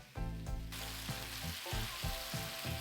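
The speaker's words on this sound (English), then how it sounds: "In a pan, add in your steak and sear for 30 seconds without moving it so you get a nice crust." Steak sears and is stir-fried in a hot pan, a loud, continuous sizzle broken by repeated scraping stirs and clanks of the utensil against the pan, close and without talk.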